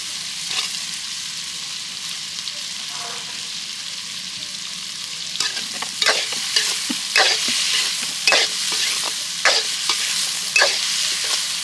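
Green chillies fry in a pan for a brinjal and sesame curry, a gentle sizzle that turns busier partway through as repeated stirring scrapes and spattering crackles come in bursts.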